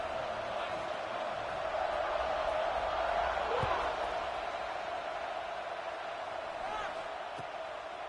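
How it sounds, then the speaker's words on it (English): Stadium crowd at a football game buzzing after a score, a steady loud roar of many voices filling the space, with an announcer talking over it. "this crowd is buzzing after that last score"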